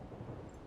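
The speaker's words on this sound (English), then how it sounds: "Although, there is a storm in this area." Low rumbling thunderstorm ambience with soft rain-like noise from the Total War: Warhammer game world, steady and muffled throughout a brief stretch with no voices.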